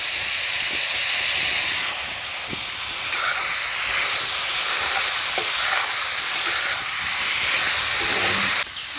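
Chopped onion in generous quantity sizzles loudly and continuously in a hot pan, giving a dense steady hiss that goes on throughout, with no talking.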